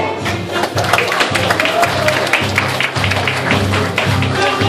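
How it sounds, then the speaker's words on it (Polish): Audience at an amateur boxing event in Białystok, Poland applauding a debuting boxer, dense clapping that holds steady and loud throughout, with a rhythmic thumping beat underneath. "Wielkie brawa!"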